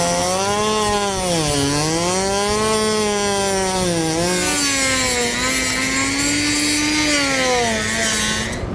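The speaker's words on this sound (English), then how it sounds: "a cutting tool is going to work the best for cutting this out" A power cutting tool slicing through plastic on a hidden hitch receiver setup for a 2018 Audi, a loud, close, continuous whine whose pitch dips and rises as the blade loads and frees, with no voices.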